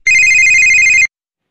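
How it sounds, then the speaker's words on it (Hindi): A phone ringtone in the Indian Bikes Driving 3D video game rings as a loud, steady electronic tone with fast trilling pulses, lasting about one second and then cutting to silence. "अरे ये क्या फ़ोन की घंटी बज रही"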